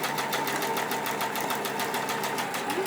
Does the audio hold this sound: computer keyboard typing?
no